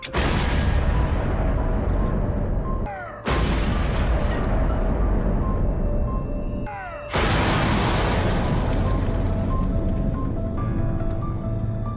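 Artillery shells explode in a war-film battle scene in Afghanistan, heavy sustained blasts with deep rumbling that run through the whole stretch, broken by two brief abrupt cuts to near silence.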